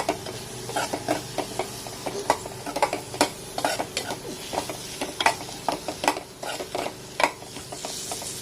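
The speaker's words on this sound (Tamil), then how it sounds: "இப்போ இது எல்லாத்தையும் நல்லா வதக்கிடலாம்." Spices for egg curry sizzle and crackle in a hot pan while a spoon stirs and scrapes repeatedly, with irregular clinks against the metal close up.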